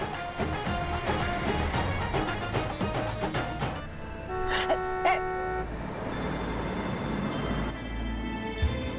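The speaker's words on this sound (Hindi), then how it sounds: "ऐसी कुछ लोगों को आदत होती है बेमतलब हॉर्न मारने की" A car horn honks out on the road in a tonal burst of a few seconds, loud over traffic rumble and a playing song.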